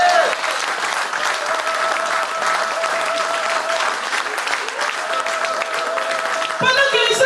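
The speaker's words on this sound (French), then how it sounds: "Est-ce qu'on peut acclamer pour le Seigneur?" Church congregation applauding for the Lord, a dense, loud sustained wash of many hands clapping together, with voices mixed in and the clapping continuing throughout.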